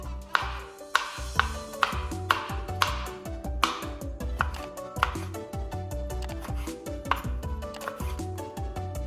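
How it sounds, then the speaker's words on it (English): A knife chops hot peppers for pickling on a cutting board in a steady run of sharp, close thuds, the knocks repeating at a brisk even pace over a faint background hum. "So let's chop the peppers."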